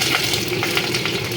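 Mustard seeds splutter loudly in hot oil, a close and continuous sizzle dotted with rapid small pops.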